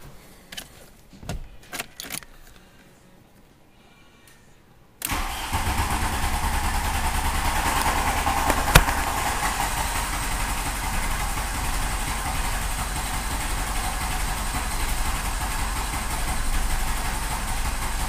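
A Volkswagen Golf engine turns over, catches at about five seconds and settles into a steady, loud idle that runs to the end, with faint clinks and handling noises beforehand.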